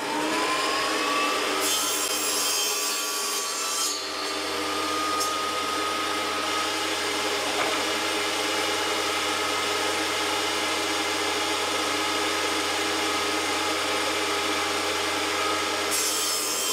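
Scrap wood boards being ripped lengthwise with a saw, a continuous rough rasping drone that holds steady throughout, close and loud with a motor-like whine underneath and no talking.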